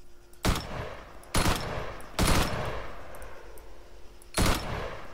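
Automatic rifle fire in the Arma 3 video game, heard as four loud, separate bursts spread across a few seconds, each sharp and close with a short ringing tail and no talking.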